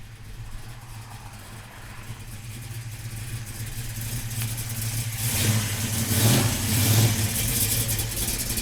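A 1966 Chevrolet Chevelle engine revs on a drive, a steady low rumble that swells into louder throttle blips toward the end, close and alone with no talk.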